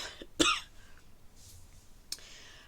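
A single sharp cough up close, followed by quiet room noise and a faint second burst near the end.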